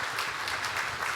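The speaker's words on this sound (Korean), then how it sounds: "박수하겠습니다." Applause from a church congregation during a Sunday service certificate presentation, a steady, dense wash of clapping from many hands filling the whole moment at moderate loudness, with no talking over it.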